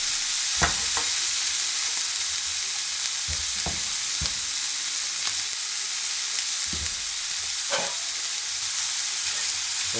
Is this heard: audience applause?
no